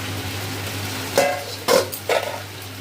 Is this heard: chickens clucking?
no